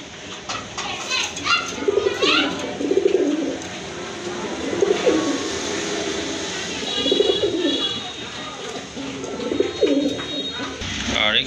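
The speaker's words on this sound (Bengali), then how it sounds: "আর এখানে আরেক জোড়া কবুতর আছে, গিরিবাজ কবুতর।" Giribaz pigeons cooing in a pair, soft repeated throaty coos rising every couple of seconds, close by, with children's voices and chatter in the background.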